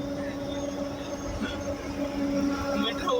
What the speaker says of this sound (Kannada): ಮೆಟ್ರೋ ಹೋಯ್ತು ಅಂತಾನೆ ನಮ್ಮ ಹುಡುಗ